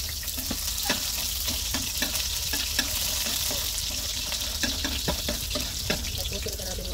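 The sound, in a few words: onion and garlic frying in a hot pan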